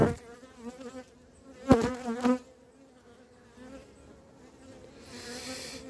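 Honeybees buzzing around a small, weak swarm colony at the hive, a close, steady hum with individual bees zipping past, one loud pass near the mic, and no talk.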